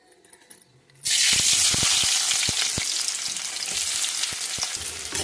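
Onions dropped into hot oil in a pan for a Telugu breakfast dish, after semolina and seeds were lightly roasted, burst into a loud, steady sizzle after a quiet second, with scattered clicks of stirring and no talk.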